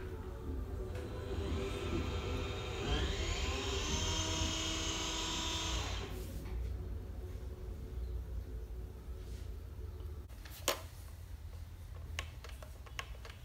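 Small propeller motor of a homemade RC submarine spinning during a bench test, a steady whirring mechanical drone that rises in pitch, then cuts off, leaving faint clicks and handling noises.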